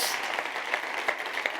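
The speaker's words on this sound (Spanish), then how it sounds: "Un fortísimo aplauso para empezar" An audience at a science outreach event bursts into loud applause, a dense, continuous rush of many hands clapping that fills the whole short moment with no voices on top.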